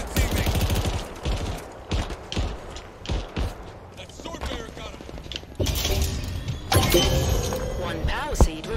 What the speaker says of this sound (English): Nah, who's just shooting me?